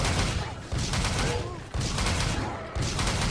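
Heavy Carbalite Cannon bowgun blasts in Monster Hunter 3 Ultimate, three loud, booming shots about a second apart, each followed by a rumbling tail, with faint talk beneath.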